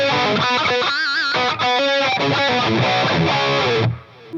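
A distorted electric guitar plays a classic metal riff through a Line 6 HX Stomp preset with a 5150 impulse response, delay and room reverb, heard loud and alone with chord stabs and sliding notes before cutting off.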